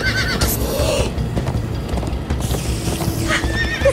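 Horses gallop in Minecraft: Story Mode, with steady clip-clopping hooves, loud neighs and whinnies over a busy game soundtrack.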